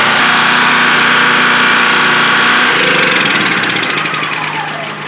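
Honda EB3000c portable generator engine after a pull start, running loud and close with a steady buzzing drone, its pitch shifting as it settles.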